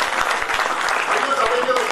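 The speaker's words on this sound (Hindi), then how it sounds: "ताली में भी समय खराब होता है।" Applause from the crowd at a Banjara community gathering, a brief burst of dense clapping with scattered sharp individual claps, fairly loud and close.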